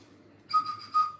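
A person whistles a short, clear tune of a few rising and falling notes, close and fairly loud, on a quiet street with no talking.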